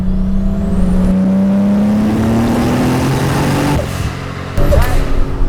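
A Toyota Supra sports car engine drones loudly with a rising whine as it builds revs, then eases off and surges again near the end, with faint voices underneath.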